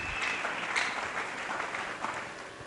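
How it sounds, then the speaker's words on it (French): A crowd gives steady, dense applause, a continuous patter of clapping at a moderate level that lasts the whole short stretch. "Acclamons très fort."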